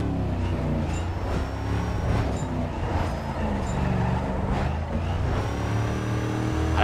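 Car engine revving and roaring continuously in the Need for Speed Carbon racing game during drifting, a loud close engine drone with shifting pitch, faint tire squeals and small surges, no voices over it.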